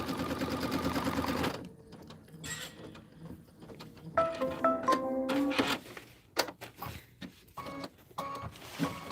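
Embroidery machine stitching background quilting on a linen autumn banner with pearl thread, a rapid whirring needle rhythm that starts loud, pauses, then resumes in uneven bursts with mechanical clicks and ticks.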